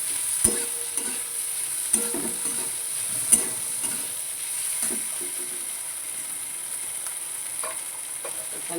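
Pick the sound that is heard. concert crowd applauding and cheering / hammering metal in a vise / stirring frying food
stirring frying food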